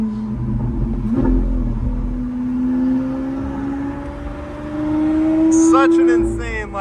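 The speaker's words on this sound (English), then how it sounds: "windows open, back window open for everything on a straight piped Aventador SV." A straight-piped Lamborghini Aventador SV engine drones and rises in pitch, heard from inside the car with the windows open, a loud sustained tone with a person talking over it.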